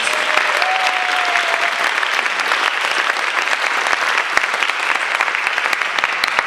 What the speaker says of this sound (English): Would you please give George a round of applause?